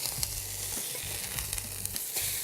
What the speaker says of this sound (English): Our fish is doing really nicely over here, searing.